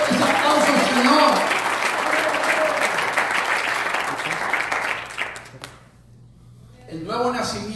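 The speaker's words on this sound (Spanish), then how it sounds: "Dale fuertes aplausos al Señor." A church congregation claps loudly and steadily for several seconds, the dense applause thinning and dropping out briefly near the end before another burst of clapping rises again.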